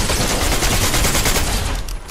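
Rapid automatic gunfire in a video game firefight, a dense, loud, continuous rattle that fills the whole moment and tapers slightly at the end, with no talk over it.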